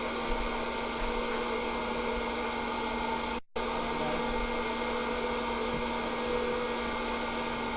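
Small plug-in popcorn machine cooking popcorn for caramel corn, a steady close whirring motor drone with a faint hum, broken by one very brief cutout midway.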